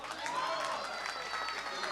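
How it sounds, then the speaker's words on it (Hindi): Applause from the audience at an Urdu mushaira poetry gathering at Mumbai University, a dense wash of clapping that fills the short moment, with voices from the crowd mixed in. "एक बार जोरदार तालियों के साथ।"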